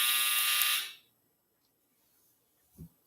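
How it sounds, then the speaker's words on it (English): A clothes dryer's end-of-cycle buzzer sounds once, a loud sustained electronic tone lasting under a second, then cuts off into near silence followed by a soft thump. "that was just the dryer that stopped"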